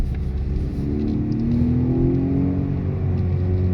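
Tuned 2017 Chevrolet Camaro with a turbocharged four-cylinder engine accelerating hard on a street, a steady loud engine drone rising in pitch as it pulls through the revs, heard from inside the car with no talking.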